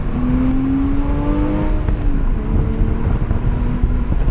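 Porsche with an Armytrix exhaust downshifting and accelerating: a loud, continuous deep exhaust roar with rising and falling engine pitch, heard up close with no talk.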